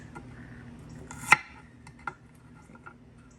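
Elephant garlic being chopped into big pieces with a knife on a board: a single sharp chop, then a quieter knock and a faint tap, close by, with no talking.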